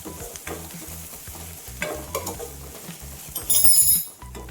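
Onions sizzling and frying over low flame in a pan, a continuous soft hiss broken by rhythmic stirring scrapes and occasional utensil clinks.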